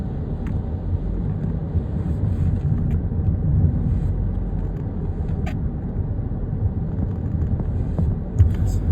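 A car drives along a road past bridge works, a steady low rumble of engine and tyres with wind buffeting, continuous and close from inside the cabin.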